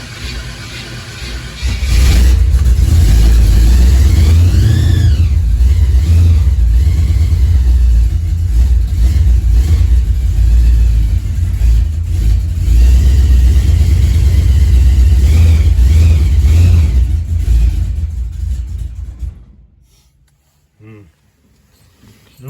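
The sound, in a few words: supercharged 454 engine running, possible valve noise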